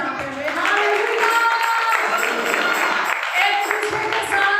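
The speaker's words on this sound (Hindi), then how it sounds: "जोरदार तालियां बजाते हुए हालेलुया।" A church congregation at a one-day seminar claps loudly and continuously, the dense applause mixed with voices and what sounds like music running through it.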